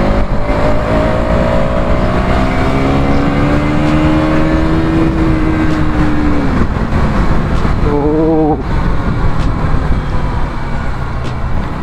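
A KTM Duke 200 motorcycle engine revs while riding, a loud continuous roar with rising and falling pitch as the rider accelerates and shifts, close up with wind rush and road noise throughout.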